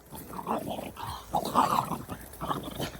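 Two dogs growl and snarl while play-fighting outdoors at a grill, a close run of uneven grumbling growls with small yips mixed in, no talking.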